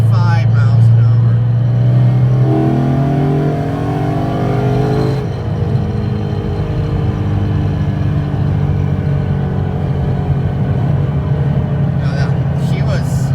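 Car engine cruising in third gear at about 55 mph after a downshift from fifth, running on stock plugs while being checked for P0300 misfires; a steady loud drone with a pitch change near the downshift, voice talking over it.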